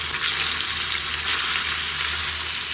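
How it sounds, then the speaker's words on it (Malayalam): Ayala mackerel frying in a pan, a steady close sizzle and crackle of hot oil holding evenly throughout with no talk. "മീൻ ഒരു വശം നന്നായിട്ട് മുരിഞ്ഞിട്ട് നമുക്ക് മറിച്ചിടാം."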